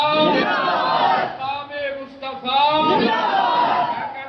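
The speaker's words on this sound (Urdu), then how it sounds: "نعرے تکبیر" A large crowd shouts the Nara-e-Takbir response, Allahu Akbar, at a religious gathering. Many voices roar together loudly in a sustained, rising and falling chant, with a short dip before the chant swells again.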